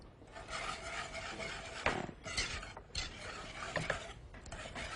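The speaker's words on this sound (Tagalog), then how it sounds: "I'll just make sure that I mix the flour very, very well" Flour, evaporated milk and an egg being mixed by hand into dough for ube empanaditas, a steady close scraping and rubbing with a few sharper scrapes, no talking.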